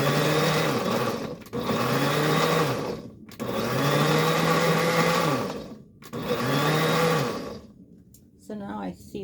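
A blender whirs through a cranberry kale smoothie in three long loud bursts with brief pauses between them, the motor pitch shifting as chunks break down, and a short clatter at the end.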